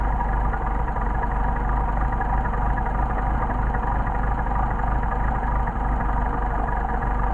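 Car engine idling steadily while its idle mixture screw is turned in, a continuous low droning hum with a constant level and no talk.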